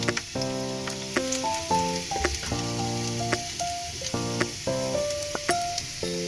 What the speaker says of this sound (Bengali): এবার রসুনটা দিচ্ছি তেলে।